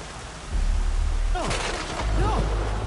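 Rain falls steadily in the video game Kena: Bridge of Spirits, a soft continuous hiss with low rumbling and a few sharp swooping effects cutting through partway, no voices present.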